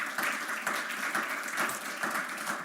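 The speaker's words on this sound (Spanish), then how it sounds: "Dele un aplauso al Señor si quiere dárselo." A church congregation applauding during a Spanish-language service. The clapping is faint and distant, coming in soft rhythmic surges throughout.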